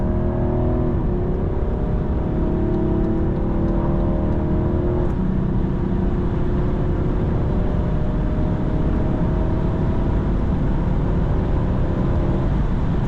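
A 2014 BMW 640d Gran Coupé with a 394 hp diesel engine pulls hard from 100 to 200 km/h on a motorway. Its engine drone rises steadily and loudly, with brief drops at gear changes, under constant road and wind roar.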